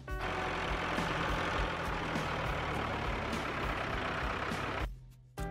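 A tractor engine runs with a loud, steady, droning rumble that continues unbroken and then cuts off abruptly near the end.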